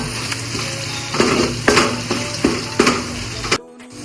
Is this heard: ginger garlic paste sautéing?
yes